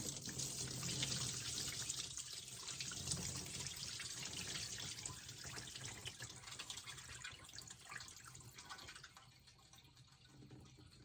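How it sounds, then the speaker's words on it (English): Liquid from homemade hot sauce made with garden peppers pours through a strainer in a steady, continuous splashing stream, close and fairly loud, easing off slightly near the end. "we're going to strain all this liquid off through there"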